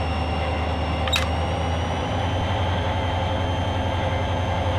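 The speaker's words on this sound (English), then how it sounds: "Get this train up to speed." A CSX SD40-2 diesel locomotive runs on the CSX A-Line mainline in a train simulator game, a steady loud engine drone with a low rumble and a brief high squeal near the start.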